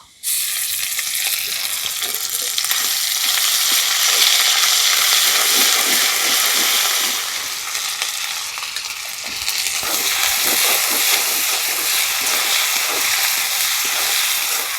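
A ground paste of radhuni, dried chilli and ginger sizzles loudly and steadily in a hot pan over already-fried potatoes for a fish curry, a continuous close frying hiss with no talk.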